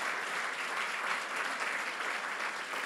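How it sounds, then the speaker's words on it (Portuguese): Steady applause from a church congregation honoring its Sunday volunteers, dense and continuous clapping filling the room at moderate level with no pauses. "Dá uma salva de palmas para essa galera que todo domingo está fazendo acontecer"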